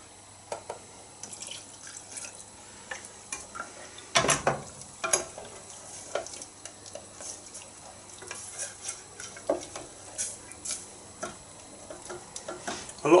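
A thick fish pie sauce being stirred in a pan gives soft, irregular scraping and ticking taps against the pan, fairly quiet and continuous, with a louder clatter partway through.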